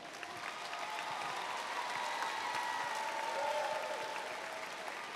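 A graduation audience applauds senior National Honor Society students, steady dense clapping from a large crowd in a big hall, sustained evenly for several seconds with no speech over it.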